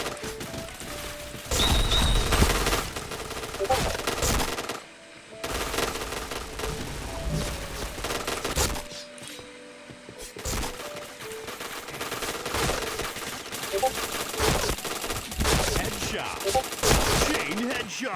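Video game gunfire rattles in dense automatic bursts for chain headshots, loud and continuous with two brief pauses, layered over busy in-game effects.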